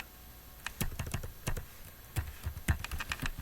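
Someone types Python Selenium code on a computer keyboard in quick, irregular bursts of key clicks, with a few heavier keystrokes. The typing is quiet and close, and no one talks.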